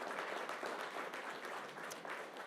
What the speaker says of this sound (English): Let's give this man a round of applause.